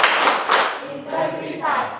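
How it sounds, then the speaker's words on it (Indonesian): An Indonesian classroom group performs the rhythmic PPK clapping chant, with bursts of hand claps and thumps mixed with voices chanting together at close range. "Oke, tepuk tangan untuk kita semua."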